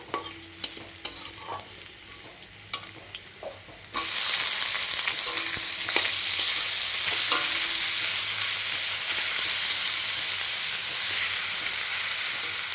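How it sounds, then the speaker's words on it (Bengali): Red amaranth greens fry with whole garlic cloves in a pan. A few quiet clicks and taps come first, then a loud, continuous close sizzle bursts in and holds steady. "এটা হচ্ছে লাল শাক ভাজা।"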